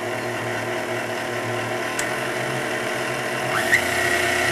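A stand mixer fitted with a dough hook kneads seitan dough, giving off a steady, close motor drone with a constant whirring hum and faint rattles throughout.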